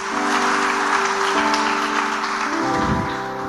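A church congregation at a Portuguese-language service applauds in a loud, dense, sustained wash of clapping, with sustained organ or keyboard tones running underneath.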